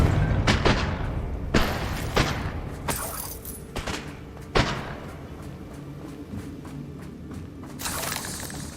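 Confringo blasting spell explosions in the Hogwarts Legacy video game: a run of sharp booms and cracking bangs, irregularly spaced, with a heavy blast near the middle and another near the end, over a busy rumbling backdrop.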